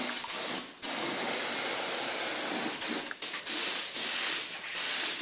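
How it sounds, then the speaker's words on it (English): A spray gun lays a light first dust coat of paint on a Holden LJ Torana. It gives a continuous loud hiss broken by short gaps as the trigger is released, heard close and with no voices. "Put a bit less paint on for your first coat. Remember, I said you dust the first"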